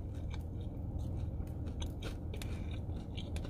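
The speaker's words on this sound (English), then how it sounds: "You hear the crunch?" Close, crisp crunching from biting into a fried Philly cheesesteak egg roll, with scattered sharp crackles over a steady low background hum.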